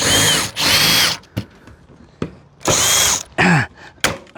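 A power tool sets a rivet in ColorBond capping on a DIY tiny home: two loud close whirring bursts, then a few sharp clicks and a pop, and another burst of whirring.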